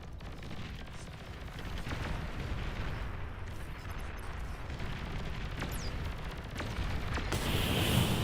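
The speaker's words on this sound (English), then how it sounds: "Long-range plasma cannon detected." Long-range plasma cannons fire in the real-time strategy game Beyond All Reason amid a massive battle, a constant roar of booming shots and crackling impacts layered densely, with occasional sharper blasts cutting through.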